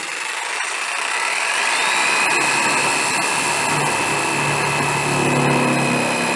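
A power tool whines steadily and loudly throughout, a continuous close-up cutting noise with no pauses, cutting a cope joint in baseboard.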